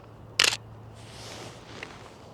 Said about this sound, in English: Just typical Nikon shutter sound.